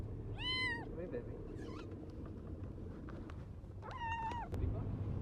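A newly adopted cat gives two clear meows a few seconds apart, close and fairly quiet, with faint household noise and some speech around them.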